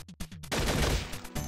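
A turret in the zombie game Infectonator: Survivors fires a short, loud burst of rapid shots. A few quick thumps come first, then the dense burst runs for about a second.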